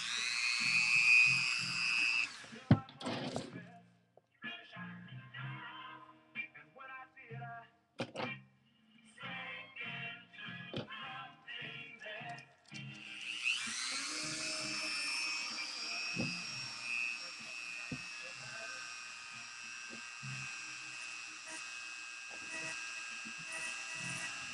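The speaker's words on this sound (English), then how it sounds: "Really, I only use about three drill bits." A high whining rotary drill engraving glass runs in bursts, stopping and starting with short grinding passes, then holds a steady, continuous whine near the listener.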